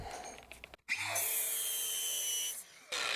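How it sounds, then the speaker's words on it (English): A metal crush tube for a Razor scooter swing arm spun in a drill chuck against a grinder to bevel it, a steady high grinding whine with motor hum after a brief pause, close and fairly loud, no talking. "I'm going to take and stick my crush tube inside of my drill chuck and go up against my grinder"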